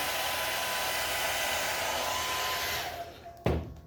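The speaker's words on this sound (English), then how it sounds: "I know you don't want to hear a blow dryer going" A blow dryer whooshes steadily at close range, then winds down and cuts off, followed by a brief clunk.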